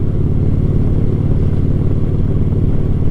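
Japanese Shadow motorcycle being ridden, a loud steady engine drone with pulsing low exhaust thrum throughout, close and continuous.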